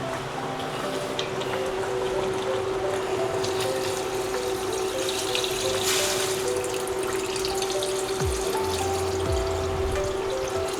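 Water pours steadily into a pot of chicken nilaga, a continuous splashing stream over a low constant hum.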